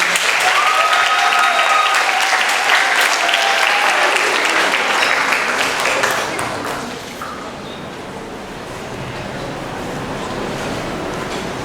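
Loud audience applause at a sixth-grade school graduation ceremony, dense and strong for several seconds before tapering into softer scattered clapping and crowd murmur.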